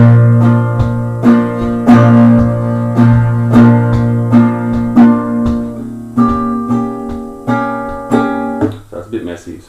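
Acoustic guitar chords strummed repeatedly with every string left ringing and undamped, so each chord blurs into the next in a loud, steady, full-sounding rhythm with no voices.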